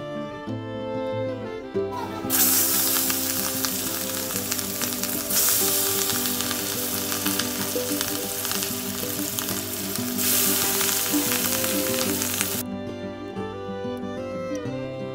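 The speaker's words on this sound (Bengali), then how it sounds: "ইলিশ মাছ ভেজে তুলে নেওয়া হলো" Hilsa fish frying in hot oil gives a loud, dense, steady sizzle that swells in partway through and cuts off near the end, over background music.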